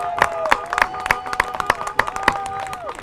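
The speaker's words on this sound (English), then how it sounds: "Can we please give a round of applause to the Police and the Fire Department?" A graduation crowd claps steadily in a brisk, rhythmic round of applause for the police and fire department, with distinct individual claps standing out. A sustained tone and faint voices run underneath.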